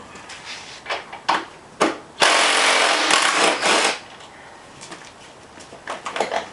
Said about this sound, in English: First, you take off your side panels, then your seat.